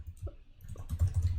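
Slow typing on a computer keyboard, a few soft, scattered keystrokes close by that grow a little busier toward the end.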